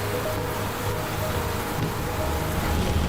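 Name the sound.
rain falling, child showering in rainwater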